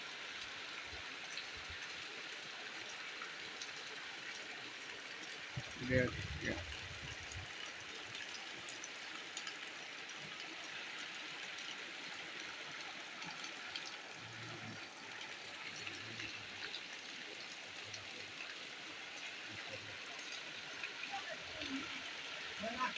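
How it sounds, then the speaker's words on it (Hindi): Rainwater flows in a steady, soft rushing wash throughout, with a brief clunk partway through. Someone speaks briefly over the quiet stream. "आज का पानी देखिए कैसा पानी हुआ रहा है।"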